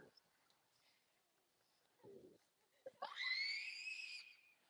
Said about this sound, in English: Really? You have to scream?